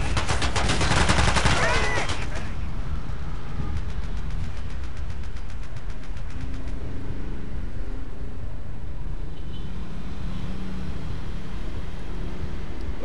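Rapid gunfire in a 16 vs 16 Battlefield 2 match, a loud burst of automatic shots at first, then sparser shots and battle noise under a voice.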